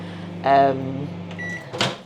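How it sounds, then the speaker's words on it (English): A microwave oven hums steadily nearby while it heats food, a close, constant drone beneath a person's brief speech. "I don't know if you lot can hear me because the microwave is going"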